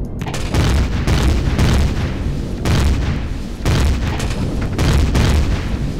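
A gun turret in the space survival game Empyrion Galactic Survival fires repeated heavy booms, loud and close, each blast rolling into the next over a continuous rumbling roar.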